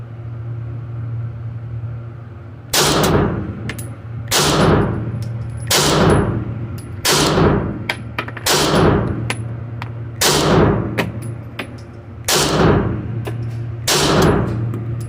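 Eight sharp Glock pistol gunshots crack out at a shooting range, spaced roughly one to two seconds apart, each loud and close with a ringing tail, over a steady low background hum.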